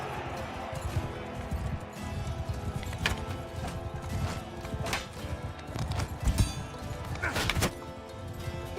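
Horses gallop in Mount and Blade II battle action, rapid rhythmic hoofbeats thudding throughout with occasional sharp impact whacks and clashes layered over them, fairly close and busy.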